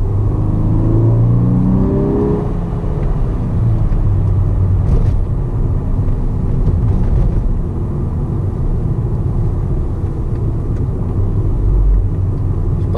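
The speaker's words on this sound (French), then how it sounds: "Chaque passage de rapport, il y a une déflagration au niveau de l'échappement." Volkswagen engine revving loudly through gear changes, a continuous close rumbling drone with rising and falling pitch and brief sharp exhaust bangs at each shift.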